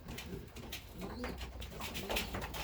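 Racing pigeons coo softly inside a loft during breeding season, giving low repeated throaty calls at moderate distance over a faint background hum.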